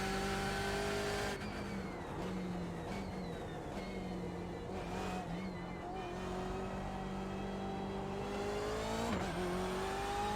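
A BMW M8 race car engine in a racing video game at Daytona drones steadily at high revs, with gear shifts and pitch changes along the way and faint talk underneath.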